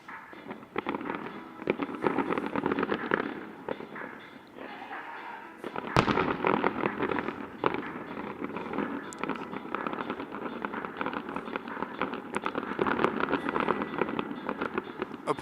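Fireworks go off nearby during a padel match, a dense stream of crackling bursts and pops with a sharp louder bang partway through, sustained and fairly loud throughout.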